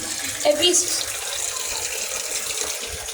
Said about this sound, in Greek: Εδώ έχει κάτι σαν συντριβάνι που έχει δροσερό νερό.